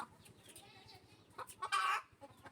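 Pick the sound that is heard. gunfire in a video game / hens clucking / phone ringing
hens clucking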